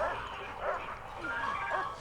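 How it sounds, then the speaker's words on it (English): A dog in the Prison Architect video game gives a few yelping, whimpering barks in quick succession at moderate volume, with game sounds around it. "I'm pretty sure I heard a dog."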